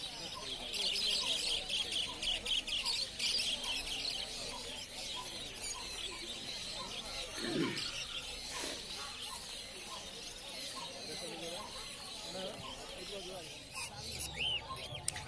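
Caged birds, including pineapple conures, chirp and tweet faintly at a busy open-air bird market, with high, rapid calls over a low murmur of crowd noise.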